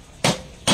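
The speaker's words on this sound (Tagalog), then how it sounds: "Kita nyo, simple-simple lang yung pinupukpok" A homemade bushing for a sidecar is hammered with two sharp, close metallic strikes about half a second apart, with quiet between them.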